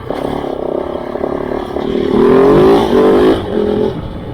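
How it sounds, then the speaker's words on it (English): Kove 450 Rally motorcycle engine revving while riding, a loud close single-cylinder drone that climbs in pitch, holds high for a moment, then eases off with some rattling in the background. "This little engine loves to rev."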